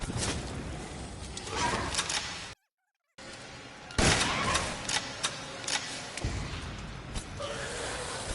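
Gunfire in the VR game Resident Evil Village on PSVR2, a dense run of sharp shots and thuds across the clip with a brief dropout near the middle.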